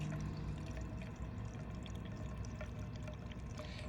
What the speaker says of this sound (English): Right now we're lautering out of the mash tun just to get a clearer pour here.